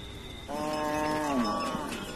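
A single long, low moo from cattle resting overnight in a herders' camp, rising and then bending downward over quiet open-air ambience, fairly close and clear.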